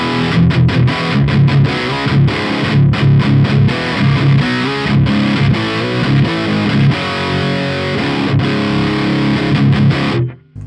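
Electric guitar through a Marshall JCM 2000 DSL 100 on the ultra gain channel with gain near maximum and the deep switch in, loud heavily distorted riffing with chugging palm-muted low notes, alone, ending abruptly.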